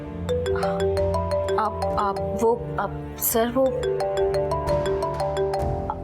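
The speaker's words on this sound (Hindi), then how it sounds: "किसका फोन है?" A phone ringtone plays in a TV drama scene, a repeating melodic tone that rings steadily throughout while people talk over it.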